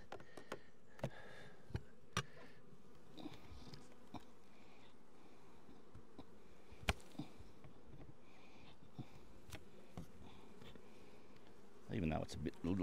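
Honey bees buzz in a small open hive during a beekeeping inspection, a steady low hum with scattered clicks and taps near the frames and a brief rustle at the end.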